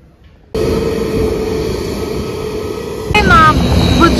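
Airplane cabin engine noise during a flight, a loud steady broadband roar starting abruptly after a quiet moment and continuing, with a brief higher whine layered in near the end.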